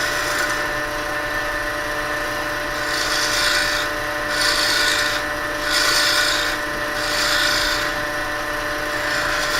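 Spindle gouge cutting a ring turned on a wood lathe, a steady rasping shave over the lathe's hum that swells and fades in a slow rhythm as the tool works the piece.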